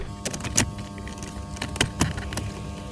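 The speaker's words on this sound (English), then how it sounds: "With all the wires plugged back in, pop the center console back into place" Plastic clicks and snaps as a Lexus RX350 center console is pressed back into place, several sharp close pops spread over a few seconds with quieter handling noise between.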